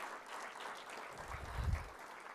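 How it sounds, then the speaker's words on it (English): Applause from the audience at a Supercomputing India 2025 valedictory ceremony, a steady, moderately loud wash of clapping across the hall with a low rumble swelling near the end. "A big round of applause to everybody who has been part of this whole team."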